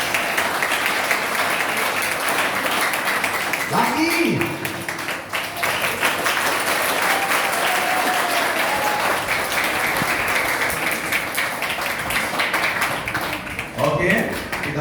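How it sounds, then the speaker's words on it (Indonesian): Audience applause at a school gathering, a steady wash of clapping from a group that carries on for most of the stretch, with brief voices and a short spoken interjection cutting in over it. "Mari kita berikan tepuk tangan untuk Tuhan Yesus."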